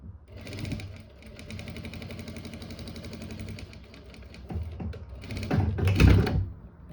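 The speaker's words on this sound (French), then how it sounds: "vous venez de voir sous la machine ce que ça donne au niveau de la couture" A sewing machine stitches a shirt sleeve hem in a steady, close whirring run that holds for several seconds, then swells into a louder, busier clatter near the end.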